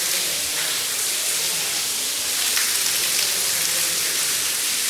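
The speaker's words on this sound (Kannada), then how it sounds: "ನೋಡಿದ್ರೆ ಫುಲ್ಲು ಮಳೆ ಫುಲ್ಲಾಗಿ ಮಳೆ ಬಂದೈತೆ" Heavy rain pours steadily, a dense, even hiss of drops hitting surfaces with no pauses.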